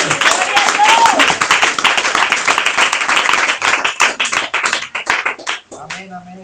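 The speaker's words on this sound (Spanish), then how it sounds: "Denle un aplauso al Señor." A church congregation claps in praise, dense applause that thins into distinct, rhythmic individual claps before dying away, with voices mingling in the sound.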